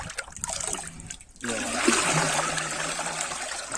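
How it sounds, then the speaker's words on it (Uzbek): Hot water pouring into sugary bee feed in a container, a steady trickling splash that starts partway through and runs continuously at close range. "Issiq suv qo'shib"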